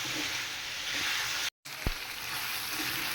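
Chickpea lentils and beef fry with spices in a pan for breakfast, giving a steady, dense sizzle that cuts out briefly, followed by a single soft knock.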